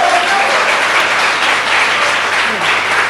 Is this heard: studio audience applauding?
yes